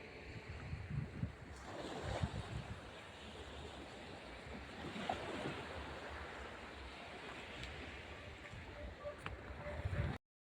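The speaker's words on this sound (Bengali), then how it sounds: "এখানে ঢেউ আছে ভালো।" Sea waves roll in at Bakkhali beach as a steady, broad wash of surf with gusts of wind buffeting the microphone, continuous and moderately loud, with no voices.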